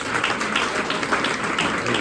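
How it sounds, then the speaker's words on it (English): A conference audience applauds the panelists after a documentary-festival session, a steady, dense wash of clapping with no voices. "give another round of applause to our panelists"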